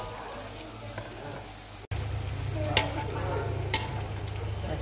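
Spiced cassava fries in a pan with a steady close sizzle and crackle, with occasional stirring scrapes and no talk.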